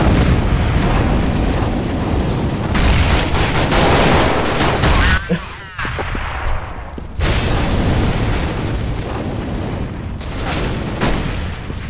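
A Molotov cocktail thrown and burning in Counter-Strike: GO on the Dust map, a loud, dense roar of fire and blasts with overlapping gunfire that dips briefly midway before surging back.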